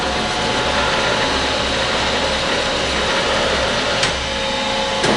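Table power adjustment mechanism on a Capital SDM-37A belt sander runs as a steady mechanical whirr and grind, loud and close throughout, with a brief click near the end.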